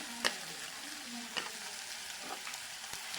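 Ginger garlic paste fries in a pan of masala for cutlets, giving a steady sizzle broken by a few sharp scrapes and taps of a spoon stirring it in.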